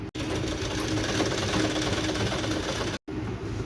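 An electric sewing machine stitches the shoulder seam of a blouse in a fast, steady mechanical rattle, with a brief stop near the start and another just after three seconds before it resumes.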